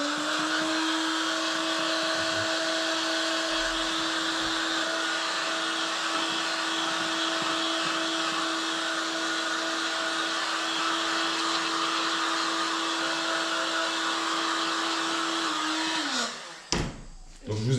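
A heat gun blows steadily for about sixteen seconds while it warms a decal kit on a 2018 KTM 150 SX motocross bike, a constant airy roar with a fixed whine, then cuts off abruptly near the end with a brief clatter.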